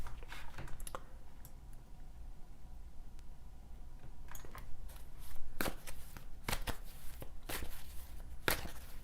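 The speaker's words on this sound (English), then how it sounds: "Sylvia Pacheco, I'm going to pull a card for you." A deck of cards being shuffled before one is drawn, heard as quick clusters of crisp riffling clicks separated by quieter pauses, close and fairly soft, with no talking.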